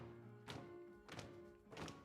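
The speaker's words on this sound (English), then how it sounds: "Come on, everybody, and stomp your feet real loud." Audience stomping their feet at a school deliberative session: three heavy, evenly spaced thuds about two-thirds of a second apart over a low steady hum.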